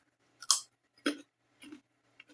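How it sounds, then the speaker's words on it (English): A raw carrot is chewed close to the microphone, a few crisp, crunchy bites with short pauses between them, loud at first and fading to softer crunches, otherwise quiet. "I shouldn't chew in your ears."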